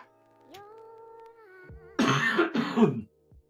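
A faint tonal hum is followed by a couple of harsh, throaty coughs up close from a man with flu, then quiet.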